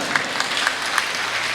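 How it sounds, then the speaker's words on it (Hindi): Brief clapping from the audience at a Hindi comedy poetry show, a scattered patter of hands with a few sharper claps standing out, fairly close and lasting only a moment. "कुछ तालियां बजी"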